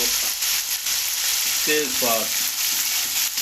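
Whole spices (cinnamon, black cardamom, cloves) frying with chicken in a pot for vegetable chicken pulao, giving a steady close sizzle throughout, with a brief voice passing over it midway.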